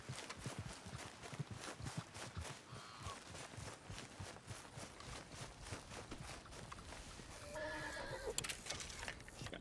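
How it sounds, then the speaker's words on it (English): In Red Dead Redemption 2, a called horse approaches with a steady clip-clop of hooves on ground, then gives a loud whinnying neigh near the end, all fairly close and without talk. "Call our horse."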